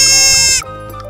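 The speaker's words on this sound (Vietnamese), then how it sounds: "Deer." A deer gives one loud, nasal bleating call up close that stops abruptly, leaving a quieter tonal tail behind it.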